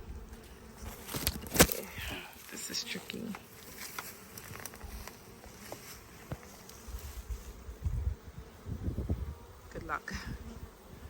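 A swarm of bees buzzes continuously around the listener, a dense drone with individual insects whizzing close past the microphone, while a person speaks briefly over it.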